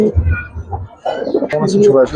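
Giribaz and coloring pigeons cooing nearby, with soft throaty coos and rolling calls overlapping a voice speaking over them.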